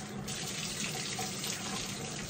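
Water runs steadily from a tap during shaving, a continuous close splashing stream with no talk over it.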